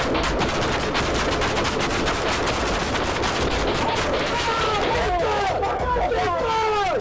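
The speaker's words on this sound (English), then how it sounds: "Suddenly, a gunshot rang out." Rapid bursts of gunfire crackle loud and close during a police shootout, a dense barrage mixed with shouting voices and chaotic crowd noise.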